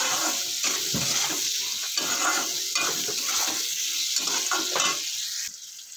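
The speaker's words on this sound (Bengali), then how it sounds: "দিয়ে একটু গুলো দিয়ে আবার একটু ভেজে নেব" Chopped onions fry with boiled potatoes in a pan, a loud continuous sizzle broken by repeated scraping stirs of a utensil, close by, settling quieter near the end.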